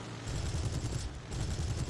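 Rapid aircraft gunfire from a Mark 5C Spitfire's guns and cannon in War Thunder, a dense continuous burst of low, rumbling shots layered over engine drone, loud and steady with no talking.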